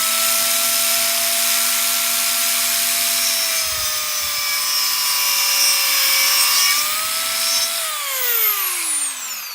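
A Dremel DSM20 compact saw cuts through black pipe with a loud, continuous high-pitched whine and rasp. Its tone sags under load, then rises and winds down at the end, with no talking.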